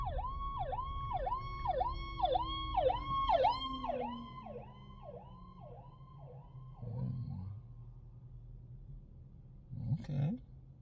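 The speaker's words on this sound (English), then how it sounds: "Got ambulance behind me." An ambulance siren wails in a steady repeating rise-and-fall pattern close behind, fading out after several cycles, followed by faint vehicle noise and a couple of brief thumps.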